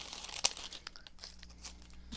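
A plastic cereal box liner bag is cut and pulled apart up close, with soft crinkling and a sharp snip or tear, fairly quiet with no talk.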